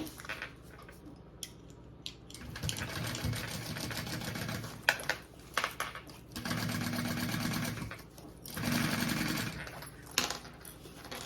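A sewing machine basting waist bag pieces together runs in several bursts of rapid stitching, separated by short pauses and small handling noises, close and clear with no talking.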